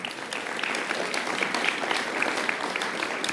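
Sustained applause from an audience at a mayoral celebration of a new 300-seat pre-K school's construction, steady dense clapping filling the whole stretch with scattered cheers and no pauses.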